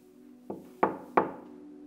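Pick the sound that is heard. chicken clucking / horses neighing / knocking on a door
knocking on a door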